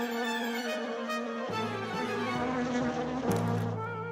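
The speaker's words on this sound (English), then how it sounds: "Oh, a bee!" A cartoon bumblebee from The Fixies buzzes steadily and close, its droning hum wavering and dipping in pitch as it hovers, with no voices over it.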